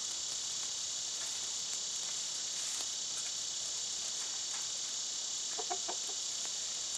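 Chickens and a rooster in a coop give a few soft, scattered clucks, clustering near the end, over a steady high insect drone like crickets.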